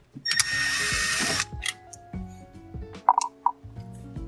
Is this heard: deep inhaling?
no